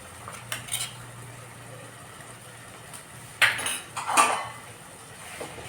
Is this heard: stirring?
yes